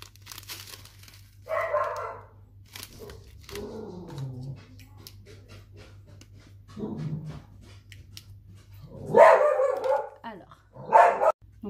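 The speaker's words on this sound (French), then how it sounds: "ma chienne a aboyé." A dog barks indoors at home in a few short, sharp bursts spread across the stretch, with crinkling packaging and a faint background hum between them.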